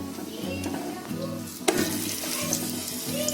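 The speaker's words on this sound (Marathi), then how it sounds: "आता पोळीला तूप लावते." Ghee sizzles and fries on a wet coconut poli cooking on a hot griddle, a steady close crackle with a sharper burst midway and no talking.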